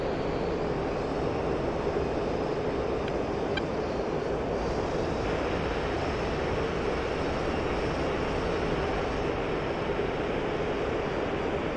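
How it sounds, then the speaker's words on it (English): A burning airplane engine drones steadily inside a video game, a continuous loud, even engine roar with faint hiss that holds unchanged for about twelve seconds, no voices over it. "I know the plane is on fire"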